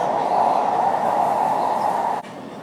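Steady rumble of a Los Angeles Metrolink train rolling along the rails, heard from inside, broad and continuous before dropping slightly near the end.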